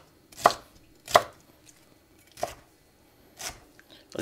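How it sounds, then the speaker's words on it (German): A knife chops bell pepper into small pieces on a board, four crisp separate cuts at an unhurried, uneven pace, close and clear. "Und auch die Paprika wird dann in möglichst kleine Stücke geschnitten."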